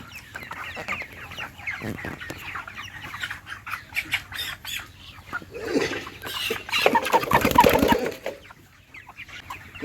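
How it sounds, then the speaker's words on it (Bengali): Broiler chickens squawk and cluck in bursts as they are picked up on a poultry farm, with a louder flurry of distressed flapping calls toward the end. "এখানে তিনটা মুরগি উঠাইছি একটা বড় একটা মেজো একটা ছোট"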